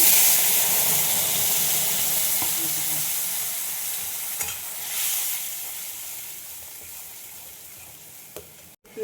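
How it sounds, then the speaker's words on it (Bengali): Cumin and black cumin spices fry in hot oil in a pan, giving a loud, steady sizzle that slowly fades, with a few stirring scrapes near the end. "মশলাটা কষিয়ে নেব"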